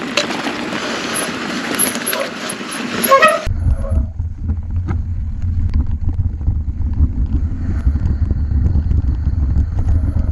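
Mountain bike brakes squealing on a dirt trail, a loud high-pitched screech for about three seconds that cuts off sharply, followed by rumbling wind and tire noise.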